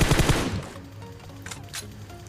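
A burst of rapid gunfire in the battle royale game PUBG, a loud close volley at the start that fades quickly, followed by a couple of fainter distant shots.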